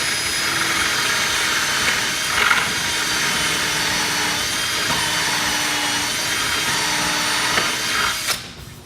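A power drill runs steadily with a 5/16 bit and a 3-inch stop, boring a hole through a loudspeaker wheel plate. The whine is loud and sustained, with small load changes, then cuts off near the end.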